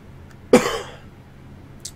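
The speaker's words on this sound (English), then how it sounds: "Especially from this cough." A single sharp cough up close, followed by quiet and a faint short noise.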